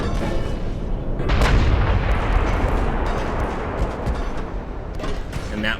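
Naval guns fire in Ultimate Admiral Dreadnoughts during a Pacific battle with a supercruiser: dense, rumbling salvo booms rolling together continuously and loudly, with a voice talking over the barrage.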